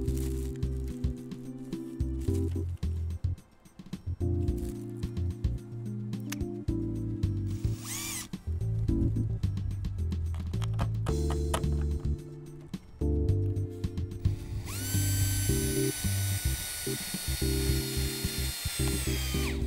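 A cordless drill drives a screw down through a plastic cover strip and connecting profile into a roof rafter over TwinLite polycarbonate roof panels. It whirs loudly in bursts with pitch changes and short pauses, with a higher whine near the end.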